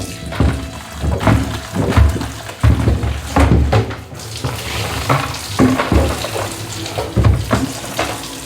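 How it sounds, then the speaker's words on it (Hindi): Water from a tap running into a bucket in a home kitchen, an uneven splashing gush with repeated surges and bumps as the container fills, close and fairly loud. "अब एक बाल्टी में पानी भर के"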